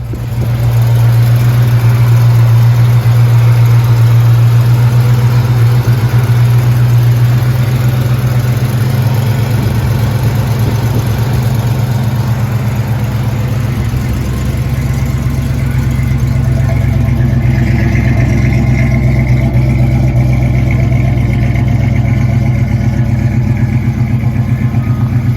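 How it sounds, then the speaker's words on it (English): A 1979 Chevrolet Camaro Z28 idles after a cold start, a steady, loud low-pitched rumble that holds without pause throughout, with a faint mechanical whine rising partway through and no voices. "Got a cold start and test drive on our 1979 Z28 Trans Am."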